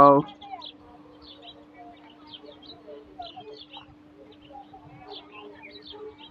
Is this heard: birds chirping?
yes